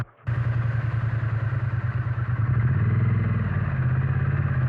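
A Triumph Bonneville T100 motorcycle engine kicks in abruptly and rumbles steadily as the bike rides over cobblestones on a test ride, with a low throbbing note that rises slightly mid-way, loud and close.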